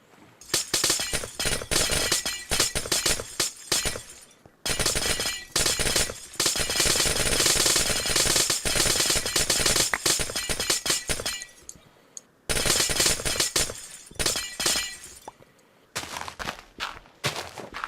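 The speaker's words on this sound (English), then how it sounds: "I probably should use my Silk Touch pickaxe that I happen to have on me." Blocks of ice break again and again as a Silk Touch pickaxe mines them in Minecraft, giving dense, rapid bursts of crunchy shattering with brief pauses between runs.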